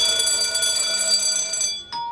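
A continuous bright metallic ringing with sustained high overtones, like an electric bell, cutting off briefly near the end before a short renewed ring.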